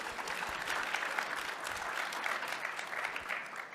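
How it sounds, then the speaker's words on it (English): A conference audience at a security talk applauds the event staff: steady, dense clapping from a room full of people, even and sustained throughout without talk. "Can we get a quick round of applause for them?"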